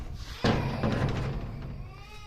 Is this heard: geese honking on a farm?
no